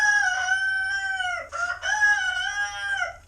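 Rooster crowing among noisy backyard chickens kept for eggs, two loud drawn-out crows with a brief break between them, close and clear.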